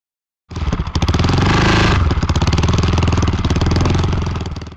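Engine of a DDS Inline three-wheel motorcycle riding, starting suddenly into a loud, close, rapid pulsing chug with a brief rev near the start, then steady pulsing that eases off slightly at the end.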